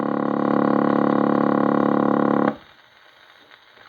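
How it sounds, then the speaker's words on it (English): A 1930s GPO automatic telephone dialing tone, a steady low humming buzz held for about two and a half seconds before cutting off abruptly into near silence, heard alone. "Dialing tone,"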